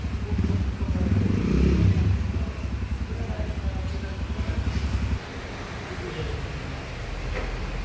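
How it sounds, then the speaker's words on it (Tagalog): Motorcycle engine running close by, a steady low rumble that grows louder early on, then drops to a quieter idle partway through. "Siguro yung sound ng bike."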